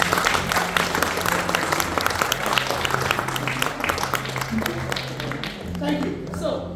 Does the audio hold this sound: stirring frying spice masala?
no